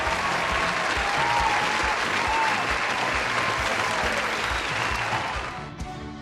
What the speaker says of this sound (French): les gars, on peut s'applaudir.